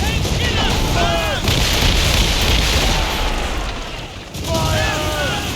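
Naval cannon fire booms and rumbles through a sea battle in Assassin's Creed Rogue, a steady heavy roar with voices shouting over it throughout.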